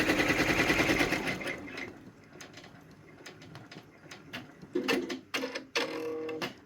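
A Brother PR1055X embroidery machine stitches a design onto a towel, starting with a loud rapid mechanical whir that drops off, then restarting in short bursts of fast clattering stitching, close and without talk.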